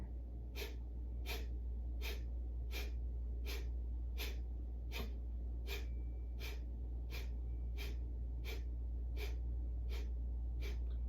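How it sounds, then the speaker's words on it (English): Breath of fire during a yoga session: rapid, rhythmic, forceful exhales through the nose, about one per second, steady and fairly soft over a low constant hum. No talking. "We're going to inhale halfway. Breath of fire."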